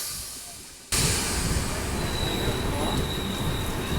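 Sengottai to Tambaram express train running on the rails, a loud, steady rumbling roar with wheel noise and a faint high squeal that starts abruptly after a second of quieter background.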